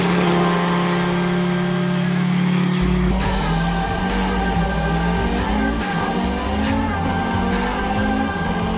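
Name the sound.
Audi Quattro 5-cylinder race car engine at Pikes Peak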